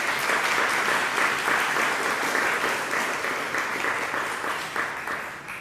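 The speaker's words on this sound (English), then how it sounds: "Applause for them." A synagogue congregation at a Rosh Hashanah service breaks into sustained applause, loud at first and then gradually thinning out toward the end.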